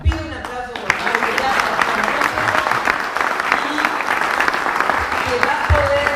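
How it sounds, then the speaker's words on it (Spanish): A seminar audience at the Instituto Patria breaks into sustained applause for a colleague, a dense, loud roar of clapping that starts abruptly and holds steady, with faint voices mixed underneath. "a quien pido un aplauso por favor"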